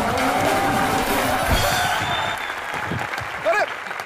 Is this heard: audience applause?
yes